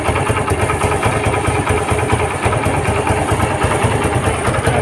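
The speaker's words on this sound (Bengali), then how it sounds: "ইঞ্জিন সাউন্ডটা আপনার শোনেন" A used 2021 Suzuki Gixxer Monotone motorcycle idles steadily after starting, its engine giving a loud, even, rapid thrum that holds constant throughout.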